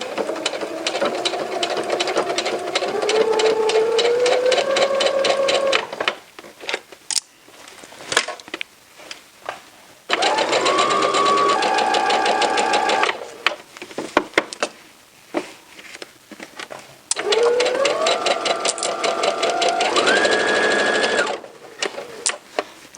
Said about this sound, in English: let me move that up a little bit, and then we'll begin sewing.